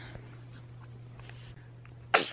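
A single sharp sneeze bursts out near the end after a quiet stretch with a steady low hum in the background.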